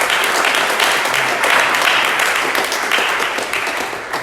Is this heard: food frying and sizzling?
no